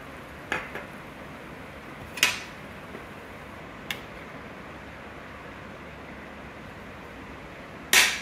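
Bowls picked up and set down, a few sharp clinks and knocks spaced several seconds apart over a quiet background hum, with one louder clatter at the end.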